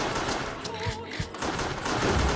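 Gunfire from the Wii light-gun game Resident Evil: The Darkside Chronicles, a dense run of shots with a few sharper bangs standing out over a busy game soundscape.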